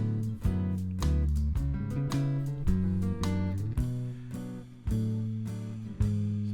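A blues backing track plays, with punchy drums, a deep bass line and chopped rhythm guitar chords in a steady shuffle groove. Kick and snare hits land regularly, moderately loud and clear, with no voices over the music.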